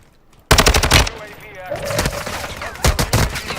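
Gunfire in the video game Warzone 2: a loud, sudden burst of rapid shots, then quieter rumbling, then a second quick volley.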